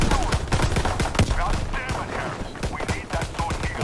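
Rapid, dense gunfire rattles through a Call of Duty Zombies round on Frozen Dawn, with close bursts of automatic shots overlapping continuously and a voice faintly underneath.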